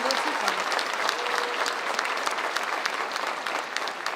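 School district awards crowd applauding elementary award recipients, a steady full burst of clapping throughout with a brief voice at the start.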